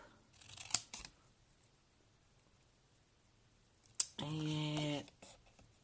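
Scissors cut through card for a handmade box, two close snips a few seconds apart, the second drawn out into a longer, resonant slicing stroke, with quiet surroundings and no talking.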